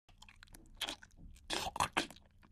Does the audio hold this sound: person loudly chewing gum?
yes